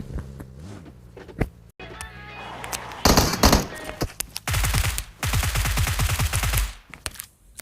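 UMP submachine gun fire in the PUBG Mobile video game: scattered single shots followed by two rapid automatic bursts of evenly spaced reports, loud and punchy, with footstep-like clatter in between.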